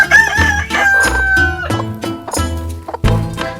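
A broody hen being picked up makes loud, drawn-out grumbling clucks and squawks, close by, in several uneven bursts with short pauses.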